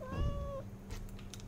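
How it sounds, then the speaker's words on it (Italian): A kitten gives one clear, rising-then-level meow up close, followed by faint rustling and soft clicks. "Oh, il gattino, il gattino."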